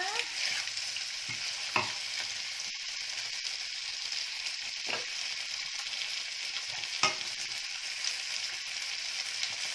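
Ingredients stir-frying in a pan for pork rad na, a constant bright sizzle with a few sharp spatula knocks scattered over the stretch, no voices.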